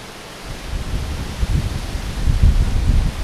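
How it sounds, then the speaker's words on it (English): Gusty outdoor wind buffets the microphone in a broad rushing roar, swelling in strength over a few seconds with no talking. "I'm not sure if you can hear the wind. It's like super gusty today."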